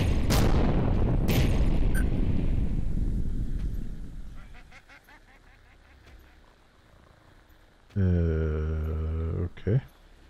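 Large booming explosions in the video game Ragnorium erupt loud and close and then decay into a rumbling tail, later followed by a sustained tonal honking burst that cuts off abruptly.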